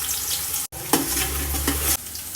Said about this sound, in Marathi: पहिले आपण कांदा फ्राय करून घेऊया.